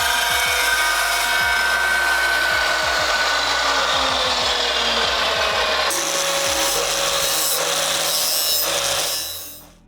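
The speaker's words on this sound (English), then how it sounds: "So basically we need to chop some amount off one of the ends here." Power tool cutting an inch off the end of a metal part for a MAXpeedingrods R34 turbo install, a loud continuous grinding whine with rhythmic rasping strokes that runs steadily for several seconds before stopping, no talk.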